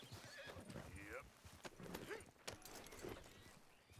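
A horse in the video game Red Dead Redemption 2 gives a loud, shaky whinny, with hooves clip-clopping around it and someone talking quietly in the background.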